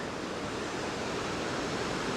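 Creek water rushes steadily near waterfalls in Helen, Georgia, a dense, even wash of flowing sound with no pauses.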